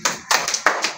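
Children clap their hands in quick bursts, several sharp, close claps in a rough rhythm with brief gaps between groups.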